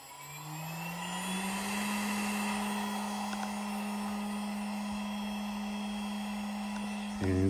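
An Alt-Mill CNC router spindle spins up with a rising whine that settles into a steady, loud high-pitched motor hum, then shifts briefly at the very end.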